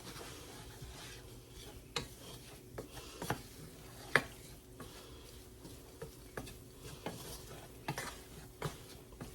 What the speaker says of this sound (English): this is going to cook like this for a couple of minutes to kind of cook up that flour